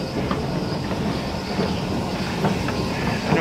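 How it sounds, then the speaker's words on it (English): The Miami Airport E-Train shuttle rumbles along steadily with faint rhythmic clacking and occasional squeals from the wheels, heard from inside the car. "gonna attempt to ride the E train"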